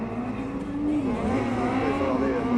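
White slalom race car number 9, driven by Yanis Gauras at the Carcassonne slalom, drives past with a steady engine drone that rises slightly in pitch, heard close and loud with some commentary voice in the background.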